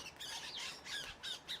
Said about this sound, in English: They're young starlings, and we've got a bird feeder and they're fighting one another on that bird feeder for the suet balls.